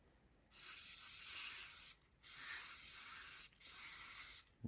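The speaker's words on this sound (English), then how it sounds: "I just want to spray down the trigger assembly and the bolt" Three long bursts of aerosol oil spray hiss closely onto the trigger assembly and bolt of a CZ Scorpion Evo 3, separated by brief pauses, followed by a small click.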